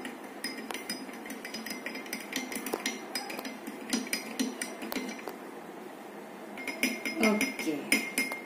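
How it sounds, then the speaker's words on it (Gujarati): A spoon stirring salt into a glass of water, producing rapid, bright clinks against the glass in uneven bursts, with some talk around it. "ત્યારબાદ સ્પૂન વડે એને મિક્સ કરી દઈએ."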